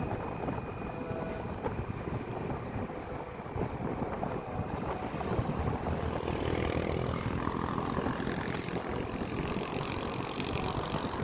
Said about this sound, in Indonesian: anginnya cukup keras